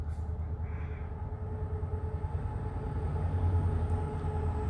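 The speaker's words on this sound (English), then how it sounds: "That was a train going by. I live right by the train tracks." A train rolls past on railway tracks right beside a home, a steady low rumble and clatter of railcars that stays loud and continuous throughout, with no voices.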